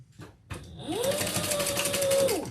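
A sewing machine back stitches a handbag seam, its motor whining up to a steady run for about a second and a half before stopping, close and clear after a brief earlier burst.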